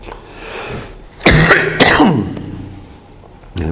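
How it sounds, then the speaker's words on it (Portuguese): A few sharp, loud coughs in a row, with a throat-clearing quality, spaced over a couple of seconds and then fading into quiet room tone; no talking during them. "Essa tosse tá dose."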